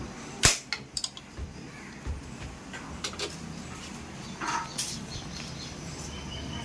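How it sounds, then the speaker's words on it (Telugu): A gas stove is lit with one sharp click-snap of the igniter, then a few fainter clicks and knocks over a low background hiss. "ఇప్పుడు గ్యాస్ అయితే వెలిగించుకున్నాము."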